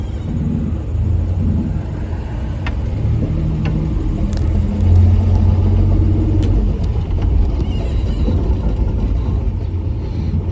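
A 1966 Dodge Dart GT drives steadily with a low engine rumble and road noise throughout, plus a few faint clicks and knocks from inside the cabin.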